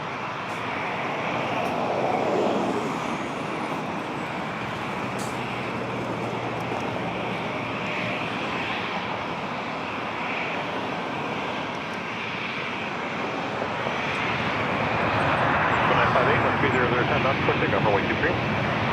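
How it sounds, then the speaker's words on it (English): An Icelandair Boeing 737 MAX 8 jet roars steadily at an airport, a broad engine rush that swells near the end, with talk over it. "then an Iceland Air 737 MAX 8"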